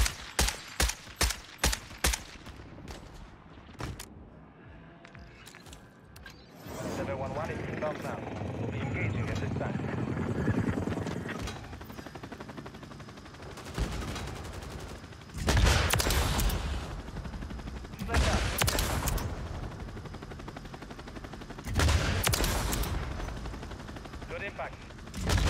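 Helicopter gunship firing from a chopper gunner killstreak in a first-person shooter game, with bursts of heavy gunfire and loud explosions over a steady rotor drone, under game voice lines.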